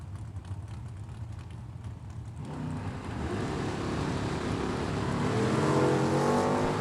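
Two Chevy Camaros, one a 1969, launching side by side in a drag race: a loud engine roar building and rising steadily in pitch as the cars accelerate down the track.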